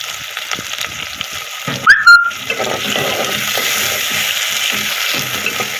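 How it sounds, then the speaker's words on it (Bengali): Dried fish (shutki) frying with onions in oil, a close and steady sizzle with stirring clatter and a brief sharp metallic clank near the middle, with no talking. "পেঁয়াজের সাথে আমি সুটকিটাও দিয়ে দিই সুটকিটা একটু ভাজা ভাজা করব"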